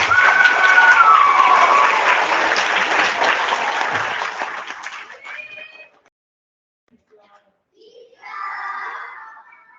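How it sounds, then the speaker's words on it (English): An audience applauds students at a second-grade school honor roll assembly, loud, dense clapping that fades out after about five seconds into near silence, then voices chatter briefly near the end. "Let's give them all one big round of applause."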